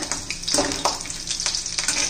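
Steady crackling sizzle of garlic frying in a spoonful of hot oil in a kadai, with a few louder spitting bursts over a continuous hiss.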